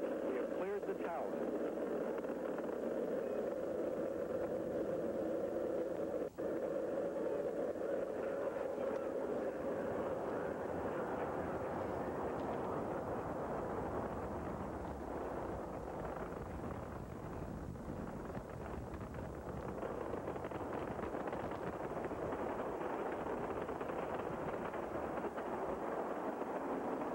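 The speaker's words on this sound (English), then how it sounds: "Solid motor ignition and liftoff. Liftoff of Challenger and the first flight to repair a satellite in space." The Space Shuttle Challenger's solid rocket motors roar at liftoff: a broad, sustained rumbling wash heard from a distance, steady throughout, with a broadcast commentator speaking over it.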